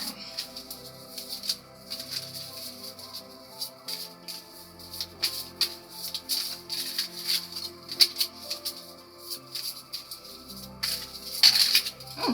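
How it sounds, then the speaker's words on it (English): Quiet papery shuffling of a deck of tarot cards, soft riffles and taps in an uneven rhythm, close and faint with no talking. "I'm going to shuffle this deck once more"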